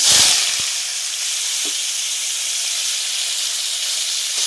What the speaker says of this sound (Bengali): তেলটা গরম হয়ে গিয়েছে, এখানে দিয়ে দেব কেটে রাখা আলু।